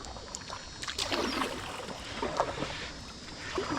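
A canoe paddled on the Suwannee River: soft repeated paddle strokes and water swishes close by, over light wind noise, with no talking.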